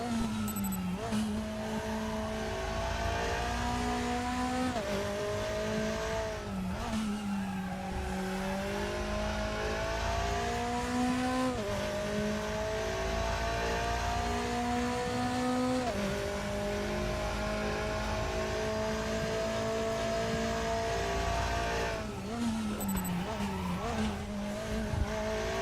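A McLaren race car in the RaceRoom racing game revs hard through repeated upshifts and downshifts, its engine note climbing and dropping in steady cycles while tires squeal under it.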